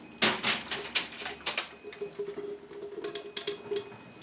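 Brussels sprouts laid one by one onto a baking pan, a series of light, close tapping and clicking contacts in an irregular patter with no talk.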